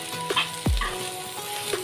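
Okra and potatoes are stirred with gram flour in a pan, with a soft sizzling hiss, a couple of light scrapes, and one brief low thud partway through.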